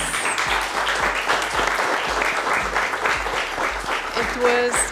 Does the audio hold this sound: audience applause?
yes